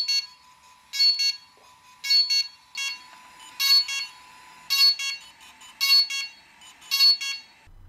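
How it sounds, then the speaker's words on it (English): Repeated electronic beeps in evenly spaced pairs, clear and high-pitched, from a DJI Inspire 1 drone during a firmware upgrade, with no talking. "you may hear beeping coming from the Inspire 1"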